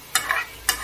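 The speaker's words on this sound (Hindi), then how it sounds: "गर्मा गर्म पटल फ्राई होने जा रहा है" Pointed gourd (potol) fries in a pan with a soft sizzle, broken by a few quick scraping stirs, close by and with no one talking.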